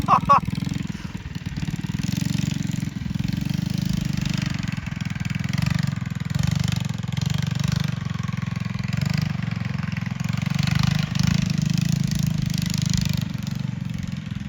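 The offroad mini bike's racing motor chugs steadily at a low, throbbing pitch for the whole stretch. The engine is close and fairly loud, with faint voices and rattles over it.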